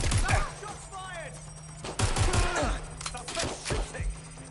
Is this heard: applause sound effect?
no